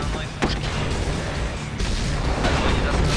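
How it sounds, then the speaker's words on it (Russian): Tank main cannon fire in C&C Zero Hour with the Cold War Crisis mod's Russian army: a sharp blast near the start over a dense, continuous roar of battle rumble and booms. "Огонь из основной пушки."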